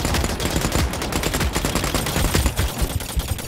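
Gunfire in the shooter The Cycle: Frontier, dense sustained automatic bursts overlapping into a continuous loud rattle, close and unbroken for several seconds.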